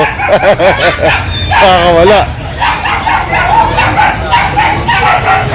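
A dog yips and whimpers in wavering, high-pitched cries while someone talks loudly over it, with scuffling noise throughout, at a pet market.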